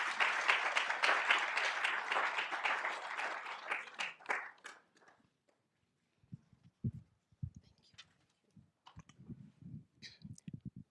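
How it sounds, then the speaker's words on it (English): An audience applauds in a full auditorium at a memorial lecture, a dense, steady wash of clapping that swells for several seconds, then thins and breaks into scattered, sparse claps near the end. "Let's give her a round of applause as she takes the podium."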